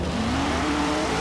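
Car spinning out in the Forza Horizon 3 racing game during a street tournament, with a steady engine drone and a rising tonal whine carrying loud and continuous through the short moment.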